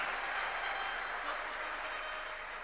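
Faint, distant clapping from a devotional gathering's audience, a soft continuous wash of applause that tapers slightly toward the end.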